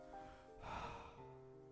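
A voice imitates deep exhaling breaths during a Fabula Ultima tabletop roleplaying session, one slow, breathy, close exhale swelling in the middle of a quiet background.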